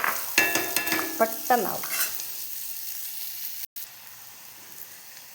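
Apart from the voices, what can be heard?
sautéing onions in a pan for yam roast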